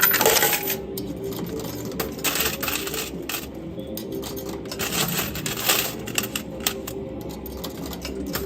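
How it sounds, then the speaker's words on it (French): Coins clatter and spill continuously inside a casino coin pusher machine, a dense metallic jingle of many small drops with busy arcade noise underneath. "Il y a vraiment beaucoup de pièces dans la machine."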